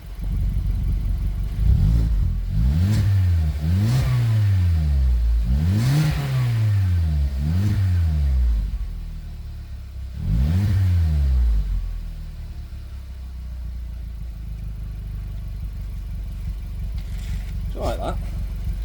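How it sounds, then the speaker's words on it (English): Cold VW Polo 1.4 FSI petrol engine revved repeatedly in short bursts, each rev rising and falling sharply, about five blips over the first half, then a steadier idle with the odd light rev. "I'll just give it a little rev, because it is, bear in mind it's cold"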